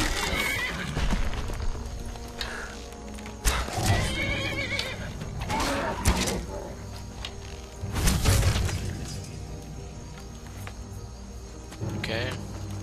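Repeated close whinnies from a horse in Skyrim, several loud neighs spaced across the stretch, mixed with hoof clopping and thumps over a constant game ambience.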